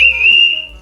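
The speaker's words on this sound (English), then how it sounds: "It has to be a waterproof whistle if it's going to be any good." One short, shrill blast from a waterproof whistle meant for a boat's life jacket, loud and close and fading slightly at the end, with no voices.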